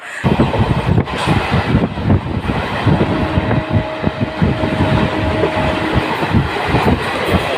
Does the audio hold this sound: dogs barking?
no